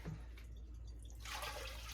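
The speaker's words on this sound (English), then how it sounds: "So this is adding 8 cups of water to this." Water pours into a pot over corned beef, a soft, steady splashing and trickling that swells louder toward the end of the brief moment.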